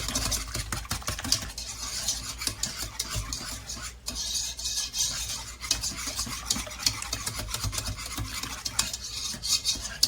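Pasta and meatballs stirred in a pot, with continuous close scraping and clinking of a utensil against the pot over a steady background hum for the whole stretch.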